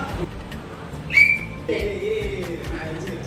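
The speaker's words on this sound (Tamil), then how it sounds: "டக்குனு விசில் எடுத்து கையில வச்சா அதான் அடிச்சிடணும்." Whistle blown during a Sunday class game at a church: one short, bright blast, then a softer tone under a noisy room with voices in the background.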